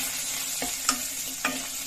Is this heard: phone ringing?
no